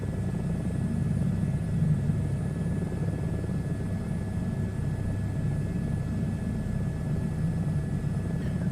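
Helicopter flying about 1,000 feet above sloping ground in a VR flight simulator game, a steady low rotor and engine drone that stays even and continuous throughout, with no talk.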